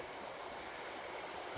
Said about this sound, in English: So the water just oozes out of the ground there